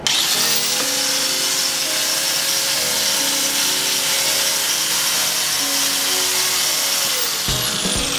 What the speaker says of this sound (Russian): И шлифмашины продолжают работать.